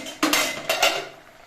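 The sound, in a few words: metal spatula clinking in a wok of boiled olives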